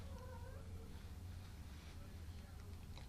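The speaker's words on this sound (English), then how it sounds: "Cat's meowing again." A cat meows a few times at moderate distance, its cries rising faintly over a steady low hum and room noise in a quiet indoor space.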